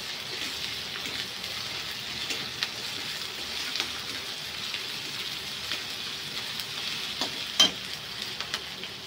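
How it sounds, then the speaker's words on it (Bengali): Onions browned red in a pan sizzle steadily as garlic paste is added and stirred in, a close continuous hiss with scattered spatters and occasional scrapes of the spoon, no talk. "এবার ওর মধ্যে আমি রসুন বাটাটা দিয়ে অল্প একটু নেড়ে নেব।"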